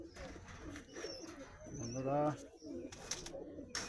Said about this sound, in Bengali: ব্রিডিংয়ের খাঁচা আপাতত বেশি পায়রা নেই, 5 জোড়া পায়রা রয়েছে